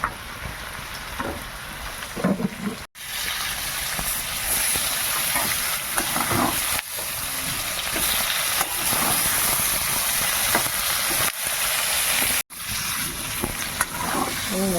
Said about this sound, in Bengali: আলুটা ভালো করে একটু ভেজে নিই